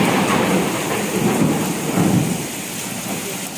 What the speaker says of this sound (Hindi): ये जो जब बादल गरजते हैं इस तरह से, वो बिजली चमकती है ना